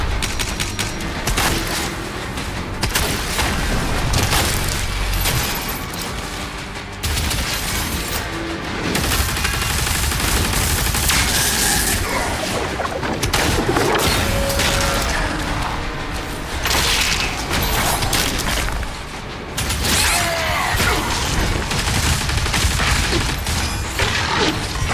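Relentless gunfire and heavy explosions from the video game DOOM The Dark Ages on Nightmare mode, with dense overlapping shots, blasts and crashes running loud and continuous throughout, no voices.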